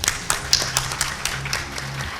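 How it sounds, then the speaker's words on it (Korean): Brief, light applause from an audience welcoming a speaker, a handful of scattered claps over a low hum, fairly quiet and thin. "큰 박수로 모시겠습니다."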